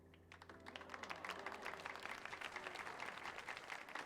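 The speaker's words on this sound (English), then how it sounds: "People clap." Steady applause from a sizable crowd in a Final Fantasy XIV cutscene, dense scattered claps running throughout over a low ambient hum, with no voices.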